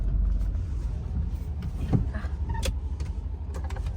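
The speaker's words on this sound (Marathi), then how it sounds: "ठीक आहे तर आम्ही आता गाडी पार्क करतोय" A car pulling into a parking spot at a railway station, with a low idling rumble, a brief whirring like a power window and some clunks, close by, no talking.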